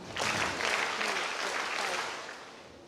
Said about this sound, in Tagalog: 5 palakpak po para sa ating lahat